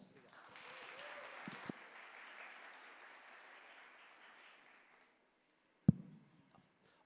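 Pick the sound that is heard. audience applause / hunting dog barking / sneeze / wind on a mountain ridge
audience applause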